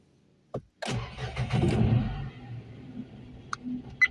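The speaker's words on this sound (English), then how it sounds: "So now I'm going to give the ignition." Nissan Magnite engine cranking on the ignition while a weak battery is tested: a short click, then about a second of starter cranking that catches and settles into a steady idle, close and fairly loud, with small ticks near the end.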